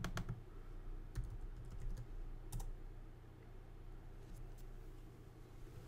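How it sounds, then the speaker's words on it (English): A few quick keystrokes enter a zip code on a computer keyboard: sparse, soft clicks in small bursts over a low, steady background hum. "Or you could type in just your zip code."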